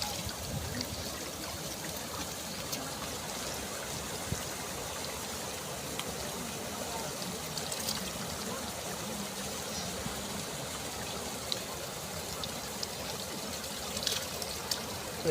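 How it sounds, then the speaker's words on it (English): Cold, clear village stream water flows and trickles steadily as people wash their hands in it, a continuous close babble with small splashes scattered throughout. "They are washing their hands."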